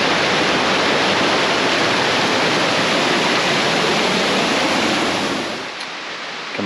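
Mountain side creek in South Westland rushing steadily over rocks, a loud, continuous broadband roar close by that eases slightly near the end, with no voices.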